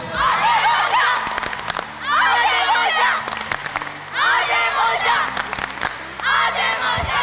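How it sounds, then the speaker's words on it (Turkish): At a school summer tournament week with volleyball and dodgeball, a crowd of students cheers in loud, rhythmic chanted bursts, four waves of shouting separated by brief lulls. "Tezahürat alıyorum."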